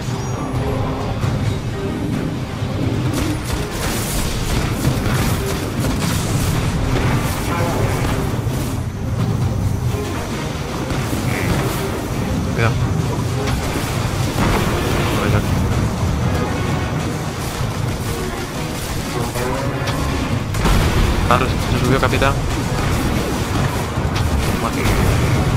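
Constant gunfire and booming explosions from the shooter Destiny during a Spanish-language co-op session, a dense, loud wash of combat noise throughout while players talk over it.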